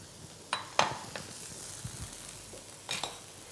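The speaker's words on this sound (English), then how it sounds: "put some butter into your pot there. And into there we're going to put in some sliced leeks and some shiitake mushrooms" Sliced leeks and shiitake mushrooms sizzle softly in butter in a pot, a quiet steady hiss broken by a few sharp clinks and stirring scrapes.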